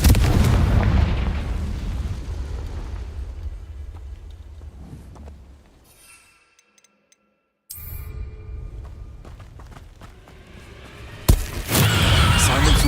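Blasts from the Confringo spell in Hogwarts Legacy boom loudly at the start and fade to near silence. A renewed rumble follows, and a sharp explosive burst hits near the end.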